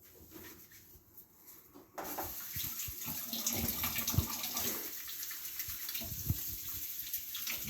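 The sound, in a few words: tap water running while washing hands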